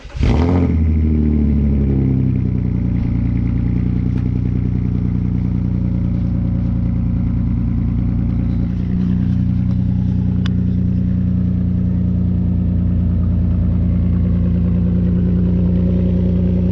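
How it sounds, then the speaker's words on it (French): A Porsche Cayenne engine cranks and fires up, then settles into a steady, loud idle that runs on alone with a deep, even rumble. "je vous le démarre parce qu'il fait toujours un bruit sympa quand même"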